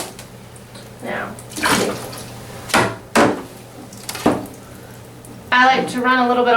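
Water splashes and gurgles through a trombone slide being rinsed during cleaning, coming in short separate bursts, then a louder ringing run of water near the end.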